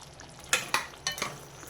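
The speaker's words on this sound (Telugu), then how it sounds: "కలిపేసి కట్ చేసి పెట్టుకున్న క్యాప్సికమ్ వేసేద్దాం" Chopped capsicum goes into a frying masala curry and is stirred, giving a low sizzle punctuated by four quick scraping clatters of a spoon against the pan, with no talk.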